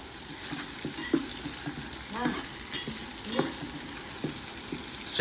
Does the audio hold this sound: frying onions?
yes